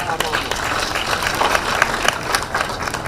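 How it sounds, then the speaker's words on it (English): An audience at a public event in Mombasa claps together, giving a dense, steady patter of applause that lasts a few seconds and is heard at moderate loudness. "If you can clap a bit"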